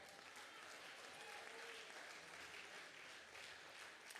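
A church congregation stands and applauds in praise, a dense, even roll of clapping sustained throughout at a moderate distance, with no clear speech.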